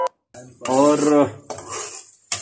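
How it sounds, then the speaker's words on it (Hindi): A ladle scrapes and stirs thick bhuna gosht curry in a pot, a few close metallic clinks and scrapes with a brief sizzle, heard alone. "ये आपने अच्छी तरह इसको चमचे चलाना है ताकि नीचे जो भी हल्का फुल्का लगा है वो खत्म हो"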